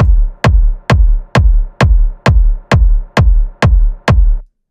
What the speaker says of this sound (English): this already sounds like this industrial hall reverb put together with the kick